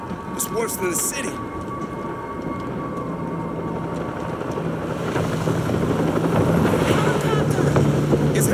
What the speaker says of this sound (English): Helicopter's landing across the river.